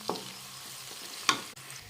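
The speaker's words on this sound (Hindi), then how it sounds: "प्याज, हींग, प्याज और हींग भी डाल दिया।" Onion and asafoetida dropped into hot oil in a home kitchen make a soft, low sizzle with a couple of brief stirring clinks and scrapes.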